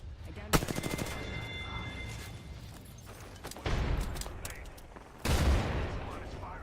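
Rapid automatic gunfire rattles in Apex Legends, a burst of shots early on followed by loud impact bursts, heard against a game background.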